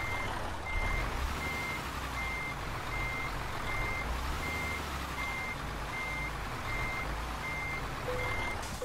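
An Euro Truck Simulator 2 truck reversing to pick up a trailer, its evenly spaced high reversing beeps repeating steadily over a low idling engine rumble, with no talking.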